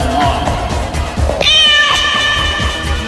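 A cat meows once and holds the call as a drawn-out, fairly loud cry over a steady hum of background noise.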